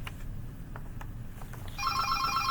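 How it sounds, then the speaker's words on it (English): A telephone begins ringing partway through with a repeating electronic bell-like trill, loud and steady over a low background hum, with no talking. "my phone's ringing"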